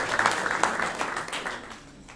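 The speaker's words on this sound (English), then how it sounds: "please clap your hands for them" Audience clapping at an international blockchain and crypto conference in Paris, a moderate scattered round of applause from the room that thins out toward the end.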